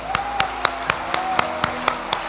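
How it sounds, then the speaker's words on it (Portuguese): A church congregation claps in a steady, evenly spaced rhythm, about four sharp claps per second, and a faint sustained tone sits underneath. "Aplauda o Senhor pela sua palavra."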